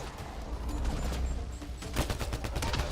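Gunfire in a shooter video game as a character fires over cover, a fairly quiet stretch of rapid bursts with a sharper cluster of shots near the end.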